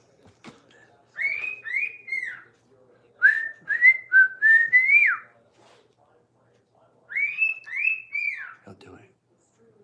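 A pet bird whistles the Mayberry theme song in three separate phrases of sliding notes, with pauses between them and a brief spoken remark nearby.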